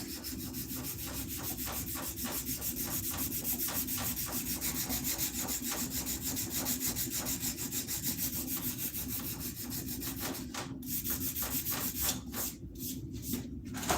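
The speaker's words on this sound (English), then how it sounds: "I always like to sand down this spot" Sandpaper rubbed over a wooden axe handle in close, rhythmic back-and-forth strokes, steady and fairly quiet, ending with a few separated strokes and pauses, with no talk.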